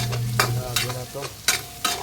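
Banana blossom and onion sautéed in a pan, a soft frying hiss broken by four or five sharp spatula scrapes at a steady rhythm, close and fairly loud, no talking.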